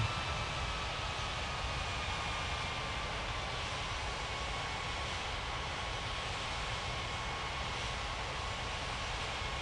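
A steady, continuous jet engine roar with a faint whine hangs as an airliner taxis in the game Unmatched Air Traffic Control, unbroken and even throughout.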